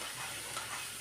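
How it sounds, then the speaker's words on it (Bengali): Potatoes fry in a pan with a steady, soft, hissing sizzle that holds at a low, even level throughout this brief moment, with no voices over it. "এখন ভাজা করে নেব আলুগুলি।"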